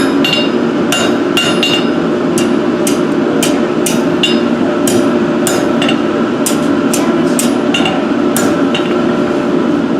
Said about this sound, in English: Couple more little hammer blows there.